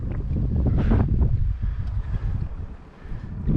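Steady wind buffets the microphone during inshore kayak fishing on open water in spring, a loud, continuous low roar with gusts that swell and ease, heard alone with no talking.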